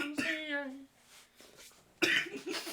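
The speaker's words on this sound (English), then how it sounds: "I'm getting over a cough here" A person getting over a cough lets out a short, harsh cough followed by throat-clearing, close to the mic between stretches of podcast talk.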